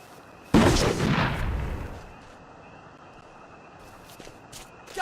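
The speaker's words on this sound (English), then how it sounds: "They're bombing us again!" A single heavy bomb blast in We Happy Few erupts suddenly and loudly, then rumbles and fades over about a second, leaving low ambience and a few faint clicks and taps.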